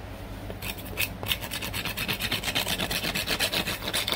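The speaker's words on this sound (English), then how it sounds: "give them a light sanding." Wooden screen door moldings sanded by hand with coarse 80-grit paper, giving a steady run of rhythmic rasping strokes, close and clear with no voices.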